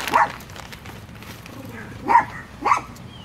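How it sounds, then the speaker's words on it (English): A dog barks several times nearby, with sharp yips spaced apart over a quiet indoor background. "I'm sorry if my dog barking is getting on y'all's guys' nerves"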